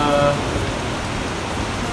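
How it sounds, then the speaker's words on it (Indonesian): Steady rain falls through the whole stretch, a dense, even hiss of drops on surfaces with a slight swell at the start and a faint voice briefly beneath it. "hari ini hujan"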